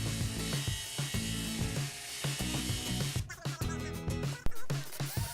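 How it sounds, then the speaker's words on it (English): A drill bores mounting holes through 3/4 inch plywood to hold an old lathe. The steady whirring runs loud and close throughout, turns choppier and stuttering over the second half, and ends in a sharp burst near the end. "We drilled holes for mounting the lathe body onto the plywood."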